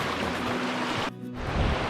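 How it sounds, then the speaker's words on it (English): Fast-moving stream water rushing steadily nearby, a broad continuous roar that dips briefly before surging back. "right behind me, where we just walked through, was extremely fast-moving water"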